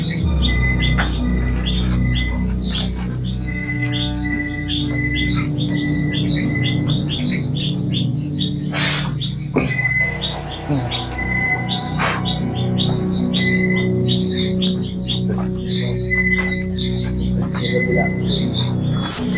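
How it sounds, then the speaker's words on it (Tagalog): Birds and an owl call steadily over a dense forest background on Mount Makiling, with insects buzzing and a low hum throughout. "Ang maririnig nilang dito guys ay ibon, kwago."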